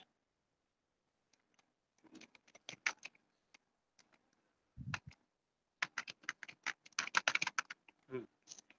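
Keys are tapped on a computer keyboard to type a word, a sparse run of light clicks that breaks off, then a quicker close burst of keystrokes, all in an otherwise quiet room.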